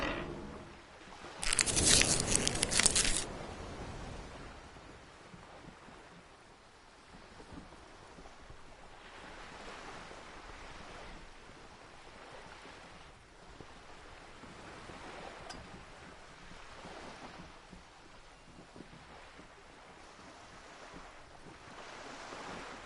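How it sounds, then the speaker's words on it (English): Wind flaps a ship's sail in a video game at sea: one loud rushing gust near the start, then a steady windy wash of surf-like noise for the rest. "The wind flaps the sail above her"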